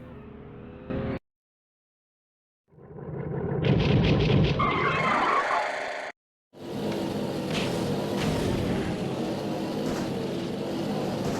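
Racing cars skid and roar in a PS1 racing video game, a dense, loud burst of engine and tyre noise that cuts out briefly, then returns as a steady, continuous roar.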